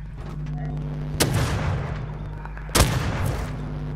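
Two sharp, loud gunshots from the survival game Rust, about a second and a half apart, each cracking over a steady low in-game hum.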